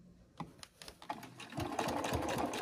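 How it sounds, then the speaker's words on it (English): A sewing machine stitching backpack fabric starts with a few slow stitches, then speeds into a fast, steady whirring run, close up. "following the edge of the fabric against my mark on my sewing machine"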